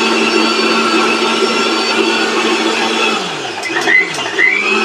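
A BMW high-power blender motor running at a steady, loud, close whine, then dipping and shifting pitch near the end as the speed changes, with a couple of light clicks.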